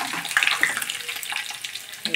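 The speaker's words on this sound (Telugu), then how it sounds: "పోపు గింజలు, ఎండుమిర్చి, పోపు గింజలు, జీలకర్ర, వెల్లుల్లి వేసి బాగా యాగనిచ్చారు గైస్" Tempering seeds, dried red chillies, cumin and garlic sizzle in hot oil, giving a steady hissing crackle with small pops, close and moderately loud with no talking.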